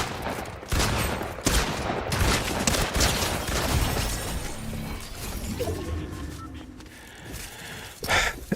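Shotgun fire in a video game, repeated loud blasts and crashing impacts packed close together over dense game noise, followed by a few quieter gaps, without talk.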